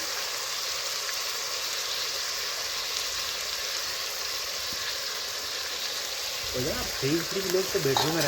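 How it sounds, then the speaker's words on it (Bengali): Marinated mutton cooks in a pan with a little water added, producing a steady close sizzle and hiss, with louder stirring and scraping toward the end. "এখন বেশ কিছুক্ষণ ধরে নাড়াচাড়া করে আমি একটু ভেজে নেব"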